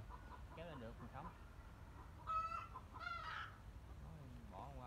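Garden chickens on a Vietnamese farm cluck and chirp in short bursts, with hens and roosters close by and a rural background murmur throughout.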